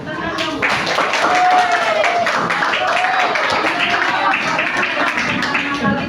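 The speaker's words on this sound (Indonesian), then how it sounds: "Iya, tepuk tangan dong." Children in a classroom clap together in a steady, dense patter that runs throughout, with voices calling out over and among the claps.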